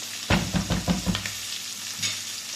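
Pork and beans with fried pork cubes in a pan, giving a few rhythmic scraping stirs over a steady sizzle during the first second and a half, then one more stir, close by with no talk.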